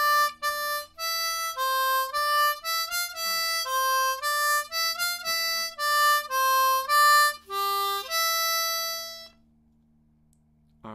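A harmonica plays a line of Beethoven's Ode to Joy, ending on a five-hole blow; a run of clear, breathy reed notes sounds alone and up close, each note held briefly, before the melody stops and quiet follows.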